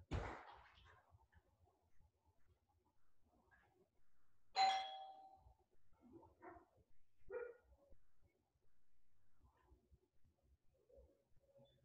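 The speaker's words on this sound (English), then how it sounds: "ring the doorbell, wait 10 seconds and return." A house doorbell sounds once with a brief bright chime amid a quiet room, while a dog makes soft scattered noises and movements before and after, all at moderate-to-low level.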